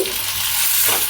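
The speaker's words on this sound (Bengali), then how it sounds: "এখন নেড়েচেড়ে সব কিছু একসঙ্গে ভেজে নেব।" Onions fried until deep red sizzle steadily in a pan while being stirred, a continuous bright crackle with soft scraping, close and fairly loud.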